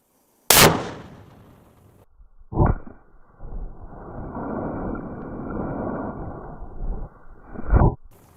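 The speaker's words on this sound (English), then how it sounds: "our neighbor is just gonna have to put up with a few shots from the 50" A .50 caliber rifle fires into a concrete highway barrier outdoors: a single very loud, sharp report, followed by a sustained rumbling roar with further loud bangs near the end.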